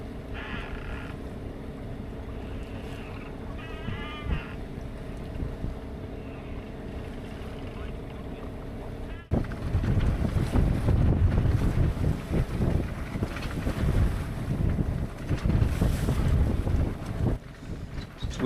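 Strong wind buffets a sailboat pushing against the incoming tide in an estuary off Conwy. A steady rush of water and engine drone gives way to louder gusty wind noise roaring over the microphone.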